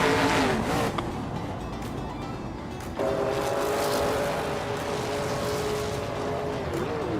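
A Plymouth Road Runner race car engine in a racing video game roars steadily near, its tone shifting with gear changes and a brief rev dip, under continuous game background noise.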